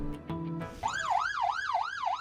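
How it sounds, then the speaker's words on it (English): Several ambulance sirens wail in a fast, regular up-and-down cycle at a Mexican border city detention facility fire, coming in loud after a brief horn-like blare. "A phalanx of ambulances."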